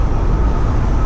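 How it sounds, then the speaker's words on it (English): Steady, loud road and wind roar inside a 2018 Jeep JL cruising at about 60 mph on the interstate, a constant low rumble with no breaks. "Now doing about 60 so you can actually hear how loud it is inside the vehicle"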